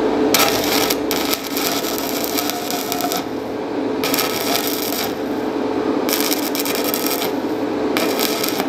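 Stick electrode arc welding on thin pipe with a very wide gap, a harsh crackling buzz in bursts about a second long separated by short pauses, loud and close without speech.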